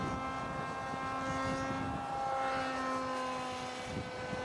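A student-designed and student-built free-flight model airplane drones overhead with a steady propeller whine, holding a constant pitch at moderate distance for the full clip.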